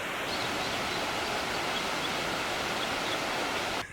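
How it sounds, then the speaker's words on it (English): Waterfall beside an icy winter trail in Yellowstone National Park, a steady loud broadband rush of falling water that fills the scene, close by and continuous, cutting off abruptly at the end. "You don't want to get too close to this edge because it is a waterfall."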